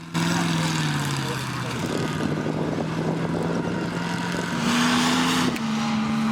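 A tank engine drones steadily with rumbling mechanical clatter, its pitch dipping then rising slightly, loud and continuous throughout.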